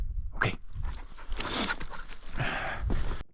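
A three-year-old bird dog pants and snuffles close by after chukar hunting, with quick breathy bursts and faint whimpers and no speech.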